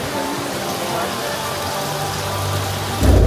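Continuous heavy rain and rushing flood water on the Universal Studios Hollywood back lot flash flood set, a dense steady roar that swells louder at the end, with a faint voice underneath.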